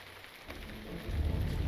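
Rain and rolling thunder in the online game LOTRO: a soft patter of rain that builds into a low rumbling swell of thunder toward the end, with no voices.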